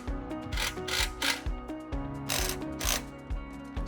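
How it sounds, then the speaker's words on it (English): A ratchet tightening 4-inch bolts on a dock gangway kit makes a quick run of rhythmic clicking strokes, close and fairly quiet, repeating steadily for several seconds. "Once aligned, firmly tighten all 4-inch bolts."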